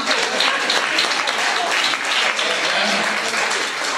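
A conference audience bursts into applause, a loud, continuous wash of clapping that holds evenly from start to finish, with a faint voice or two mixed in.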